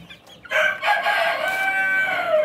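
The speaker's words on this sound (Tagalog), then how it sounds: "Update naman sa mga 1-month-old na chicks natin, Rhode Island chicks." One-month-old Rhode Island Red chicks give a loud, drawn-out call close by. The call is a wavering, crow-like cry that lasts about two seconds.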